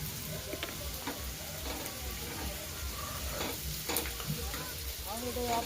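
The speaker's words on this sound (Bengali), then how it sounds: "ভাজা হচ্ছে" Food fries in a pan with a soft continuous sizzle and occasional light ticks and taps, fairly faint, with a voice briefly audible in the background.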